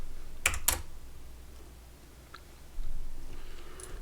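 Several keys on a computer keyboard are pressed to move a drawing around on a Raspberry Pi, with two sharp, close clicks near the start and a few softer taps after them, all over quiet room hiss.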